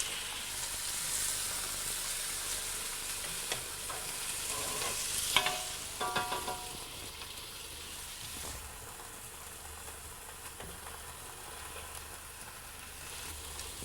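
Red wine, three quarters of a bottle, heats to the boil in a pan alongside onions, making a steady bubbling sizzle and hiss with occasional utensil scrapes and clinks, fairly close.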